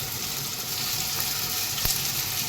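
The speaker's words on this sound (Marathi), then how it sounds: "कढई एकदम तापून घेतलेली आहे आपण आधी भेंडीला फ्राय करून घ्यायचं आहे" Okra frying in a well-heated kadhai of hot oil gives a steady, dense sizzle that fills the whole stretch, with one brief sharper crackle near the end and no voices.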